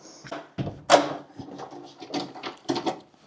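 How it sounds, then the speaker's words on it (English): A hotel room door opens with wooden knocks and thunks in a dodgy hotel in Turin, a couple of close bumps followed by scattered handling noises. "God, I can barely fit through that door."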